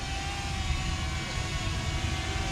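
A DJI Mavic Mini drone flying, giving a steady faint whirring hum from close by, alone with no talking.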